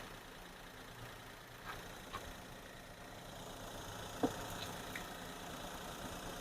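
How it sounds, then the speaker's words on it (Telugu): A Maruti Alto K10 car engine idles quietly and evenly, a faint steady hum with a few small clicks and taps and no talking. "ఇంజన్ బీటింగ్ కూడా చూడండి, చాలా సైలెంట్ ఉంది ఇంజన్ బీటింగ్."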